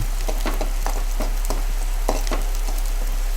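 Onion frying in a pan for egg sukka makes a steady hiss, with regular crackles and stirring scrapes close by and no voice.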